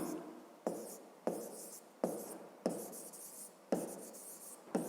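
A pen writes out a math solution, scratching across paper in six rhythmic strokes, each starting with a sharp tap and trailing off, close and alone.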